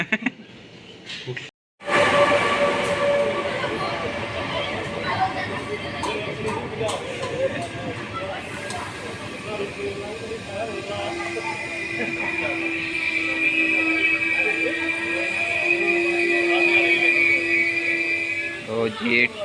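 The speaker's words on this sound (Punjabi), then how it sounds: "ਟ੍ਰੇਨ ਆ ਗਈ ਤੇ ਸਾਡੀ ਟ੍ਰੇਨ ਵੀ ਆਉਣ ਵਾਲੀ ਆ" A train rumbles and grinds into a station in Italy, with a long steady metallic drone and squealing tones, people talking nearby through most of it.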